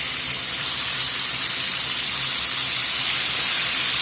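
Chipotle chicken wings fry in hot oil, giving a loud, continuous, close-up bubbling hiss that stays steady throughout with no talking.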